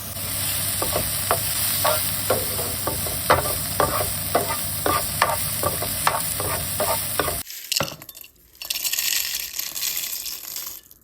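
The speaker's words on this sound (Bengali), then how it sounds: "শুকনা মরিচ এভাবে ভেজে ডাইনিং টেবিলের উপর রেখে দেই" Dried red chillies fry in a pan with a dense, continuous sizzle and quick rhythmic taps of a utensil stirring them, then the sound shifts to a rougher, rushing crackle near the end.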